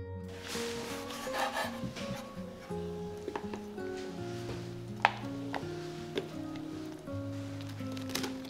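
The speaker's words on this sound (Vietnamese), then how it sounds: "Cà chua thì các bạn rửa sạch, cắt bỏ cuống." A knife cuts tomatoes on a wooden board, with soft uneven chops and scraping strokes close by under steady background music.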